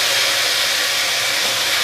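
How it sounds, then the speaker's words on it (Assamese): Boiled potato and raw papaya fry in a pan with a loud, steady, close hiss of hot oil, continuous and unbroken throughout, with no voices. "আৰু এতিয়া মই বইল কৰি থোৱা আলু আৰু অমিতাখিনি দি দিছোঁ ইয়াতে।"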